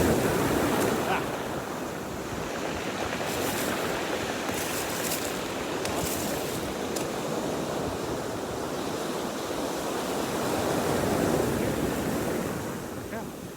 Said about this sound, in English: The waves are really pushing in